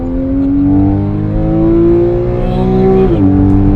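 A naturally aspirated Porsche 911 991.1 Carrera 4S engine revs loudly nearby, its steady rising tone climbing smoothly before dropping sharply near the end and settling again, with no voices.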